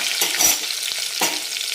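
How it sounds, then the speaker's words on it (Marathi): Garlic and ginger sauté in a hot pan, giving a continuous bright sizzle broken by occasional scraping stirs, close and fairly loud. "याला पण आपण थोडंसं कच्चेपणा जाईपर्यंत आपण याला परतून घेणार आहे"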